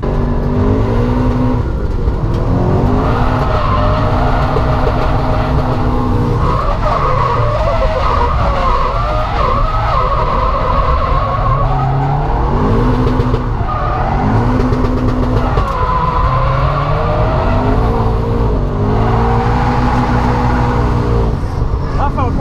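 A Toyota GT86 drifting along the walls of Rockingham's Meihan layout, its engine droning and revving throughout while the tyres squeal and skid in long sweeping slides, loud and sustained for the whole stretch.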